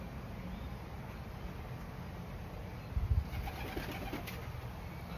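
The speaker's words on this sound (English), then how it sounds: "I let the birds out for the first time today." A quiet outdoor hum with a brief burst of wings flapping and soft pigeon sounds, as birds are let out of a loft and take off together.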